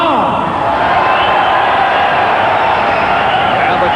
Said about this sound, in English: And the crowd reacts to Michael Carbajal